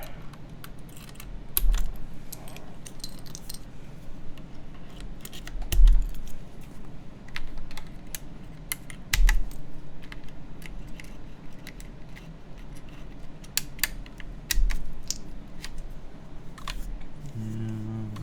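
Alpha keycaps being pushed onto a keyboard during a Synovia keyboard build, sharp plastic clicks and taps in irregular bursts with a few heavier thumps, close up, over a faint low hum.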